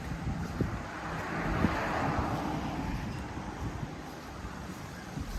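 A strong, dry wind blows in rural open country and buffets the microphone with a continuous rushing roar. Irregular low thumps surge through it, and the sound stays steady and moderately loud for several seconds.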